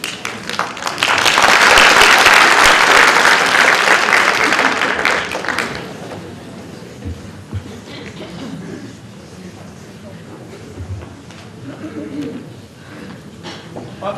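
An indoor audience at a World Health Day event applauds loudly, the clapping swelling for about five seconds before fading, followed by quieter room noise and a speaker's voice.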